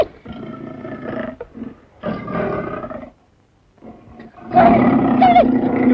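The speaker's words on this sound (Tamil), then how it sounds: "எங்க புலி கரடி எல்லாம் உருவுற சத்தம் கேக்குது" Wild animals, tigers and bears, roaring as a film sound effect: loud, rough roars and growls come in three bursts separated by short pauses, with no talk over them.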